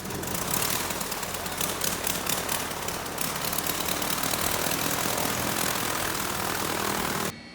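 A small four-seat propeller plane's engine drones loud and steady from inside the cabin, a constant buzzing roar with a rapid pulsing flutter, cutting off abruptly near the end.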